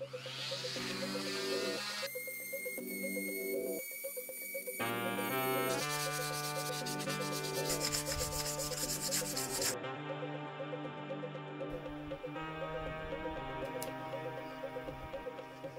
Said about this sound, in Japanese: じゃあ1000番のサンドペーパーでちょっと磨いていきます。